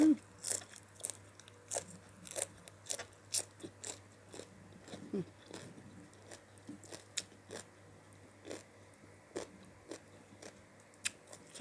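Crispy fried pork rinds served with papaya salad and fried fish are bitten and crunched repeatedly close up, the sharp crackling bites coming in an irregular steady rhythm with chewing between them and no talk.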